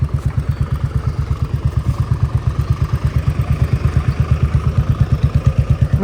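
A new motorcycle engine idles close by with a strong, regular low thumping pulse that stays steady and loud throughout.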